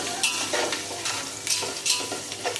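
A tempering sizzles in a pan as it is stirred and sautéed, bursts of frying hiss rising with each scrape of the spoon, close and continuous.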